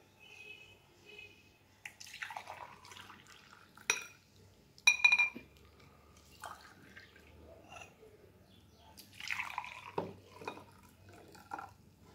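Hot black coffee is poured back and forth between glasses to cool it, making intermittent splashing streams and gentle glass clinks at close range in a quiet room.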